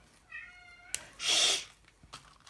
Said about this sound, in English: My cat's going nuts over there.